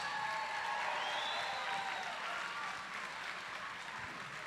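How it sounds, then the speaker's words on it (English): A crowd applauds boxers after a three-round bout at a black-tie boxing event, producing a continuous wash of clapping heard somewhat distant and moderately loud, with faint tonal voices or whistles over it early on. "Give them a loud round of applause."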